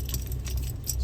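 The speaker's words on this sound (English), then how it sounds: "I'm gonna use the keys" Metal keys jangle and clink for a moment, up close, over a low rumbling engine-like drone.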